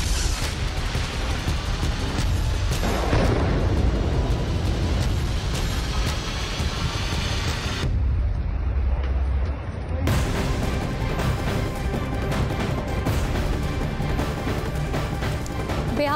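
Heavy explosions from drone strikes in Ukraine rumble and boom through a dense, continuous wall of sound for about sixteen seconds. A brief dip near the eight-second mark is followed by more crashing blasts, and no one talks.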